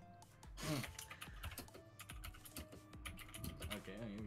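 Computer keyboard typing in irregular clicky bursts, moderately close, mixed with a background game soundtrack and other noises.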